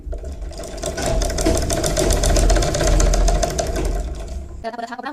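A sewing machine stitches fabric for a baby's hood with a rapid, steady mechanical rattle, loud and close, that stops abruptly near the end.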